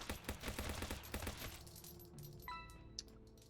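Assault rifle fire in the sci-fi shooter Interstellar Prime, a rapid burst of close shots for about two seconds, followed by metallic clinks and scattered impact sounds.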